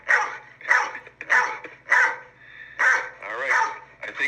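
A puppy barks excitedly in a burst of repeated yips and bow-wows close to the mic, quick and uneven.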